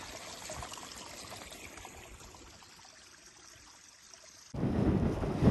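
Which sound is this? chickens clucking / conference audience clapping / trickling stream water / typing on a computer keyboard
trickling stream water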